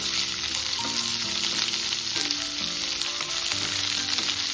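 Chopped onions and curry leaves fry in hot oil for mutton pepper fry, a steady dense sizzle running throughout with a low background hum.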